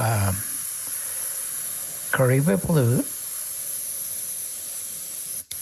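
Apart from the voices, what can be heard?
airbrush spraying paint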